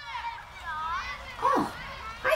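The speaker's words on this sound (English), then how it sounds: "think I hear some kids playing on a playground over there." Children play on a playground some distance away, with high shouts and squeals rising over a soft background hum.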